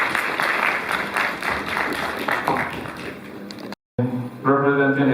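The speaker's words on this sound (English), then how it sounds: "Shall we welcome him with a round of applause?" Loud, dense applause from a large audience at a college congregation ceremony, sustained clapping that cuts out abruptly, then a voice speaks over a sound system.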